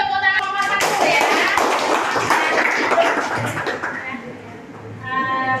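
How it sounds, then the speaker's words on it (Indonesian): A classroom of students clapping for a presenting group during a chemistry lesson, a dense burst of hand claps lasting several seconds, with voices talking at the start and again as the clapping fades. "Beri tepuk tangan kelompok 1 ya."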